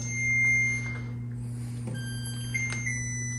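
A preheated oven plays a short electronic beeping tune, a few thin high tones over a steady low appliance hum, with no talking.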